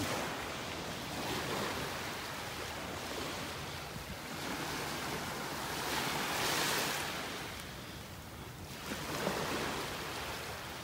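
Ocean waves wash onto a beach in North Naples, Florida, a steady broadband surf rolling in repeated swells with wind noise over the microphone, no talking.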